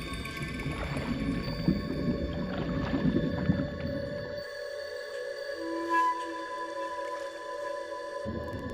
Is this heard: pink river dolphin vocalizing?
yes